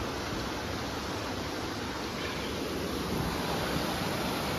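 A river flows past stone steps, a steady dense rush of water, close and constant throughout, with no talk.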